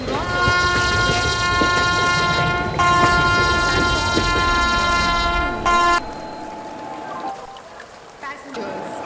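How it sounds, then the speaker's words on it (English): Train 12269 Toronto Express arriving at an Indian railway station: a long, steady horn-like tone over rumbling wheels and rain, close and loud, ending abruptly into quieter station noise. "Train number 12269 Toronto Express is arriving at"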